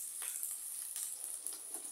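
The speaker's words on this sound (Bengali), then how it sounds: "এটাকে একটু ভাজা করে নেব, একটু হালকা করে, খুব বেশি ভাজবো না, একটু হালকা করে ভেজে নেব।" Chopped onion, crushed garlic and ginger paste frying lightly in a pan for Bengali chilli potato, giving a steady, soft sizzle with faint stirring crackles throughout.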